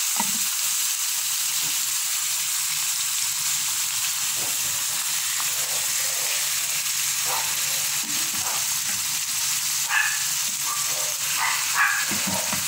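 Ground beef and ground pork fry loudly in a pan for lasagna, a dense, constant sizzle close by with faint stirring scrapes and no speech.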